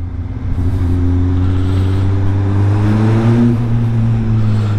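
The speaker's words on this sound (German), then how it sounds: "man kann natürlich mit dem Gas steuern, wie laut das Motorrad ist" A Kawasaki Z motorcycle fitted with a MIVV exhaust revs while standing still, a loud, close growl whose pitch climbs and swells with each twist of the throttle.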